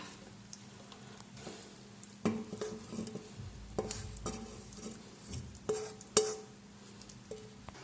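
Stir-fried Szechuan-style spicy green beans being scraped and dished out of a pan, with a low fading sizzle broken by several sharp metal spatula scrapes and clinks against the pan, close and irregular.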